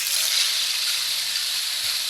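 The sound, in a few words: ocean and rain sound instrument called the hurricane, storm-like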